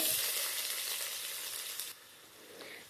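Onion fries with mustard seeds in hot oil, a bright steady sizzle that drops off abruptly partway through, then continues more quietly, close up with no voices.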